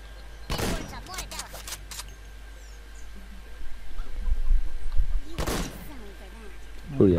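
Bazooka shots hitting the ground in the video game Worms Revolution, two sharp explosive bursts about five seconds apart over a quiet game background, with a brief chirpy game sound near the end.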